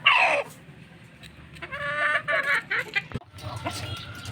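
A gamecock rooster, a White Thompson cross, clucks in a series of short, near, fairly loud calls with brief gaps between them.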